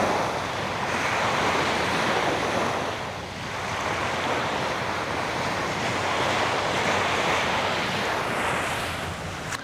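Atlantic Ocean waves at Hillsboro Lighthouse in South Florida at night, a continuous broadband wash of surf with gentle swells in loudness, mixed with wind, steady and fairly close throughout.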